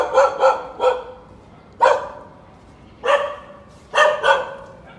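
Several dogs bark in short clustered bursts, some doubled and some single, echoing moderately close inside an abandoned art school building in China.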